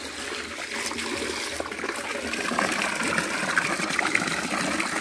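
Water pours and gushes into water storage tanks, a steady continuous rush with trickling splashes that grows slightly louder toward the end, heard alone without talk.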